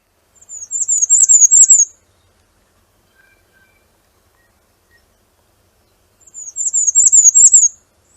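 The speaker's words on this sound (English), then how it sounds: "Their song is a slow version of the black and white, the squeaky tricycle wheel going slower" A warbler sings two separate high, squeaky phrases of slow repeated notes, each lasting under two seconds with several seconds of silence between, clear and alone.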